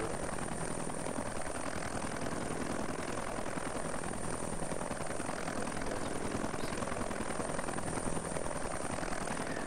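A military helicopter sits running on a landing zone during joint Marine training, its turbine whine and rotor thump steady, loud and close throughout with no voices.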